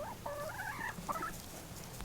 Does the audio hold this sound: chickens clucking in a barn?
yes